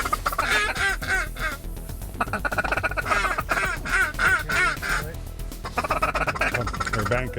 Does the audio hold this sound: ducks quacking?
yes